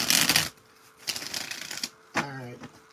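Tarot cards being shuffled during a live spiritual reading, heard as three separate bursts of dry riffling and flicking that are close and clear, with a short hum of voice in the final burst.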